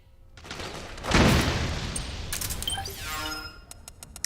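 Gunfire in the stealth action game Metal Gear Solid 4 on PS3, a loud burst that swells, then rattles and fades, with metallic clinks and electronic tones trailing after, no voices.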